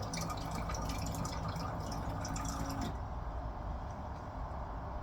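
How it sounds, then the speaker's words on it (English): Bottled water poured into a cooking pot for rice, a steady close splashing stream for about three seconds that then stops, leaving a quieter dripping tail. "I am using bottled water to make our rice"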